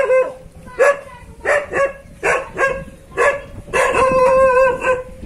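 A dog barks repeatedly and aggressively near a farm transport vehicle, giving a series of loud, close, evenly spaced barks that run together into rapid yapping toward the end.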